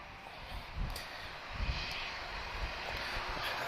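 An airliner takes off at Lisbon Airport with a broad, distant jet-engine roar rising and swelling steadily, heard from afar with a few faint thumps.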